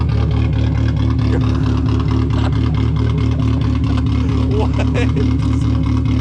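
A cammed Mazda Miata engine idles close by with a steady, lumpy low rumble that holds throughout, while people talk over it.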